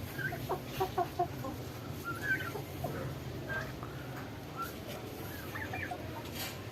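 Chickens cluck and a rooster calls intermittently over a steady low farmyard hum, with soft scattered clucks throughout.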